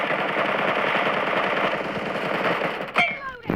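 Automatic gunfire in the mobile battle-royale game PUBG Mobile, a dense continuous burst of rapid shots filling the clip, ending with a sharper crack and a short ringing tail, with no talk over it.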